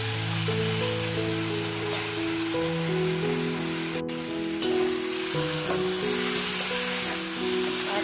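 Food sizzles steadily as it is sautéed in oil in a pan until the oil separates, a continuous close frying hiss with occasional stirring, no talking.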